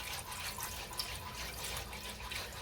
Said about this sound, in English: And now is when we're going to pour our milk in.